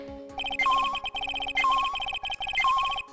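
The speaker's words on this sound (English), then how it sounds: "That's the sound of the metal detector signal bouncing off of something like that." Repeating electronic beeps and chirps of a metal detector in the Phoenix Wright: Ace Attorney: Trials and Tribulations video game, a rapid rhythmic pattern of tones cycling three times over a steady background tone, clear and alone.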